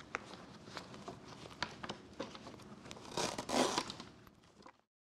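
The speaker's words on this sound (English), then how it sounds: "So there's a zipper in the back, and we zip up the zipper" Zipper on the back pad of a Kimba Neo stroller being pulled closed, giving a close series of rasping zip strokes and fabric rustles that peak in one longer zip before stopping.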